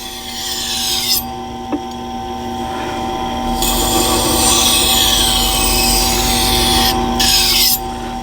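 Tormek T-2 Pro sharpener grinds a kitchen knife edge, a loud rasping scrape that swells and fades in passes over the stone, with brief pauses between strokes and no talk.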